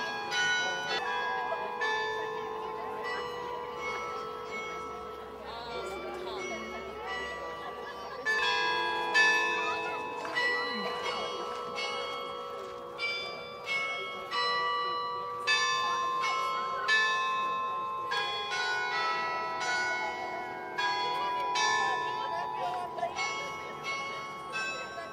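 Carillon bells ring from a bell tower at a 75th anniversary event in Bathurst, a slow melodic sequence of struck bell tones with long ringing decay, clear and sustained throughout.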